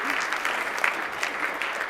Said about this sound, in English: we can clap for Dirt the Cat